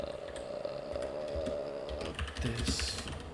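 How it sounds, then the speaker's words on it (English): Rapid clicking keystrokes on a computer keyboard, close and fairly quiet, tapping in uneven bursts with a steady hum underneath. "Pardon the keyboard."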